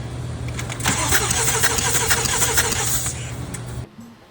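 A BMW M4 with low compression in cylinders 1 and 2 cranks over continuously for about three seconds, a steady, loud, even starter churn that stops abruptly, leaving near silence.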